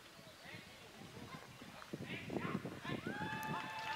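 Several horses gallop out of an outdoor driving-competition arena at an international carriage-driving event in Saumur, hoofbeats drumming rhythmically under crowd noise and a commentator's voice that rise toward the end.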